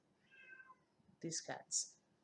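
A cat meows faintly a couple of times in quick succession, short high cries over a quiet background.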